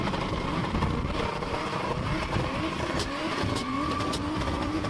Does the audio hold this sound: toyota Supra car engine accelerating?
yes